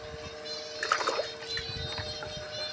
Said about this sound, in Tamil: கொய்யா செடி தண்ணி ஊற்றுறோம் பாருங்கள்.